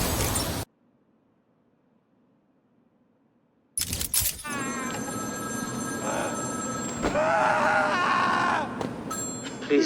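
In Batman: Arkham City, a telephone rings in a city street, sounding as a loud, repeating electronic bell over ambient game noise after a brief silence.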